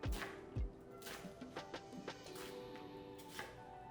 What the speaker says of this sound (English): I have a yellow onion, and we'll just cut that into strips along the grain